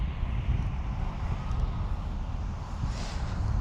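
Wind gusting across a microphone outdoors on a sunny day during a drone flight over Kingsbury, London, a steady low rumbling buffet that swells slightly toward the end.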